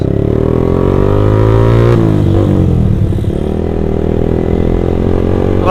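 A supermoto motorcycle on a night ride accelerates hard and close, its engine droning loudly and climbing in pitch, with a brief dip before pulling again.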